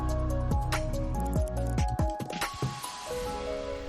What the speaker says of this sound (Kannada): ಚಿಕನನ್ನು ಸೇರಿಸಿದ ನಂತರ ಚೆನ್ನಾಗಿ ಮಿಕ್ಸ್ ಮಾಡಿಕೊಳ್ಳಿ.